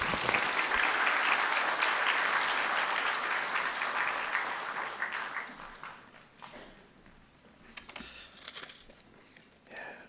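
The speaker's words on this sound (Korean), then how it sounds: "나오실 때 박수로 모시겠습니다." A Sunday congregation in a Korean church applauds to welcome a guest preacher to the pulpit, with loud, dense clapping that fades away after about five seconds into a quieter room with scattered rustling and a few taps.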